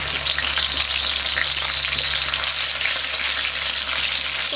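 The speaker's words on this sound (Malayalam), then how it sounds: "ഓയിൽ ചൂടായി തുടങ്ങുമ്പോൾ നമുക്കിതിലേക്ക് സോസ് ഒഴിച്ചു കൊടുക്കാം." Sauce poured into hot oil for chilli gobi sizzles and crackles in a steady, dense hiss, close and continuous throughout with no talking.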